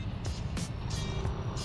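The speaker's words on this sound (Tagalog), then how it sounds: "Parang buong maghapong nagta-traffic dito ah." Steady city road traffic in Valenzuela, a continuous low rumble of engines with a few vehicles passing by in quick succession, heard close from the roadside.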